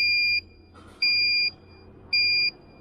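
A PBL Tech proximity alarm emits three loud electronic beeps in an on-off pattern, each lasting about half a second, piercing and close against a quiet background.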